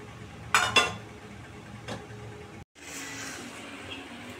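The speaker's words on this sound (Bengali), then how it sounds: "একটু বেশি তেল দিয়ে লাল লাল করে ভেজে নিতে হবে" Fritters frying in plenty of oil: a few metal utensil clinks against the pan early, then a steady soft sizzling hiss through the last stretch.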